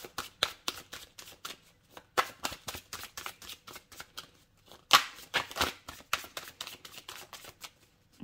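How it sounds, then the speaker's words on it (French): Tarot cards being shuffled and drawn, a rapid series of crisp riffling slaps and flicks, close and fairly loud, with brief pauses between bursts. "Je vais quand même tirer une carte de plus sur la carte de la guidance"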